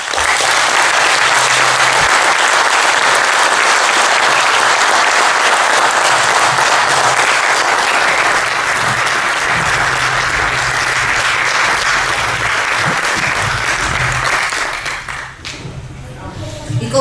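Loud, dense applause from a large crowd at a village parish anniversary celebration honouring local musicians, sustained steadily for about fifteen seconds before dropping away abruptly near the end.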